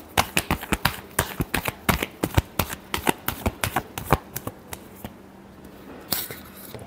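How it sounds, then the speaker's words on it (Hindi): Tarot cards are shuffled in quick, crisp riffling snaps, a dense run of close sharp clicks that thins out toward the end. "Last shuffle."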